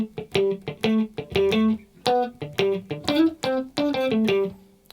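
A guitar plays the clean, funky riff from a song, a close, loud stream of choppy plucked notes and short chord stabs in a steady rhythm.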